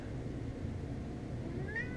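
A cat gives a single short meow near the end, heard fairly close in a quiet indoor space over low background hum, no speech.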